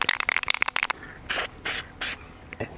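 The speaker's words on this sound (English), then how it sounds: "Alright, I'm just going to use a red spray paint." Red spray paint from an aerosol can hisses onto a crankbait lure in three short, even bursts, preceded by the rattling clicks of the can being shaken and followed by a faint click.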